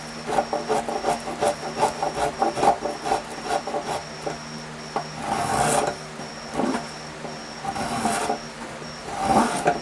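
A spokeshave shaves a wooden guitar neck in steady, rhythmic rasping strokes, close and fairly loud, with quick repeated passes at first and then longer scraping pulls.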